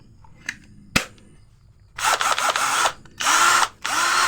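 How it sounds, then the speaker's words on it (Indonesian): A Morris 16.8V 10mm brushed cordless drill gives a couple of sharp clicks, then whirs loudly in several close bursts of a few seconds each, separated by brief pauses. "Suaranya ciri khas bor yang masih beraset ya."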